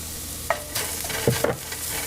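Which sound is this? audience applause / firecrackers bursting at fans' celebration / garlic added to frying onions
garlic added to frying onions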